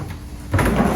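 A drawer in a hotel room slides open with a low rumbling scrape that begins halfway through and carries on to the end, close and fairly loud after a quiet start.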